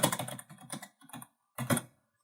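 Text typed into an image editor on a computer keyboard: quick, close clusters of light key clicks in two bursts separated by a short pause, with no voice.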